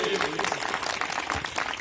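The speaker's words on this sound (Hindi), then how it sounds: "जोरदार तालियां आप लोगों के लिए।" An audience claps together at a Hindi education talk, a dense burst of applause filling the short stretch with a voice briefly mixed in underneath.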